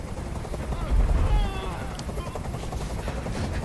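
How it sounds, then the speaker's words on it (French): Helicopter from the video game Detroit: Become Human, its rotor chop hovering continuously, swelling louder around a second in, with a voice speaking over it. "Fais dégager cet hélicoptère."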